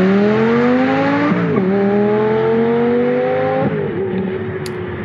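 Engine of a 2005 Lamborghini Gallardo at 12,000 feet, revving in rising sweeps with a couple of shifts between pulls, loud and close, a strong harmonic whine alone without talking.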